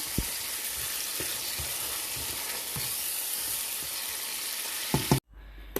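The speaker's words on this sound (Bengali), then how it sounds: "আর আমি আলুটা আগে কষাই নেব" Potatoes and green chilies sautéing in hot spiced oil, a loud, continuous close sizzle with occasional soft knocks of stirring, then a sudden cut to near quiet at the end.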